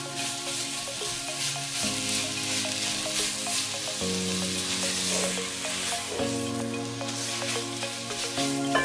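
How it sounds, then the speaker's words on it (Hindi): Half a pound of minced chicken frying in a pan for keema pasta, a loud, continuous close sizzle with a steady crackle throughout and a faint tonal hum underneath. "ये हाफ पाउंड का चिकन का कीमा लिया था, मैं इसमें डाल दूंगी। एक दो मिनट तक इसे पकाएंगे।"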